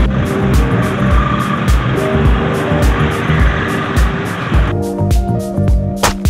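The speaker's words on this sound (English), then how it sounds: "So let's hop on the bike and away we go." Motorbike or scooter setting off on a ride through Chiang Mai, Thailand, engine note steady and close with road and wind noise throughout, a change in tone near the end as it gets under way.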